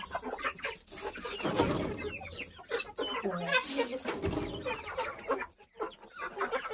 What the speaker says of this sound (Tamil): சேவல் வந்துருச்சு கிரே கோழி எங்கே போச்சு